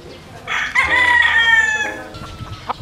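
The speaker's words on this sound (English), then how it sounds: "He is the voice of the rooster." One loud, close rooster crow, a long drawn-out call that rises then trails off, followed by faint clucks.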